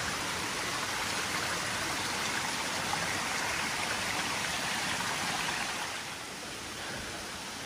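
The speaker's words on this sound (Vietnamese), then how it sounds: "Bên đây cũng có nước chảy luôn." Water from the Thủy Liêm stream rushes continuously through forest on Núi Cấm, a dense steady hiss of flowing water close by that eases slightly toward the end.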